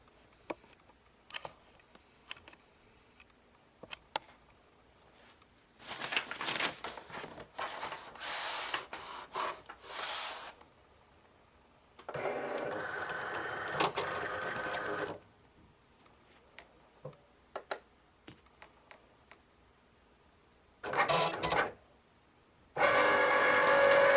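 Cricut cutting machine slicing a simple square, in several bursts of buzzing motor and carriage movement separated by quiet pauses, close and fairly loud.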